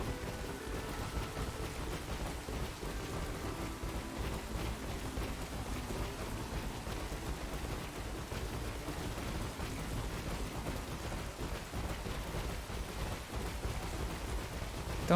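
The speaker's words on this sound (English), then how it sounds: "Don't like it that it's raining now in game." Rain falling in a video game, a dense, continuous wash of rainfall with low thunder-like rumbling underneath, steady and fairly loud with no speech.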